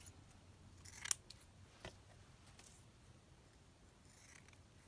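Scissors snip once through paper or lace while trimming an ephemera piece, a short crisp cut standing out against a quiet room, with a faint handling tap shortly after.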